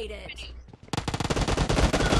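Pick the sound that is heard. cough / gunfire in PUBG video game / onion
gunfire in PUBG video game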